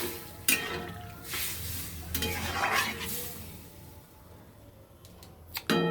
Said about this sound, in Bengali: ভালো করে মশলা কষে নিলাম